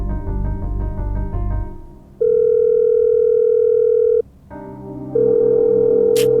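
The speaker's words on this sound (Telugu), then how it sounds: "కోటి కూడా ఉన్నాడుగా, వాడికి ఫోన్ చేద్దాం." A telephone tone sounds: a brief buzzy beeping at first, then a long steady ringback tone, a short pause, and the tone again.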